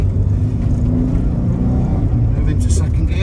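Engine of a 1990 VW T25 Autohomes camper van with a dogleg gearbox, droning steadily and loud from inside the cab as it shifts into second gear, with someone talking over the running motor.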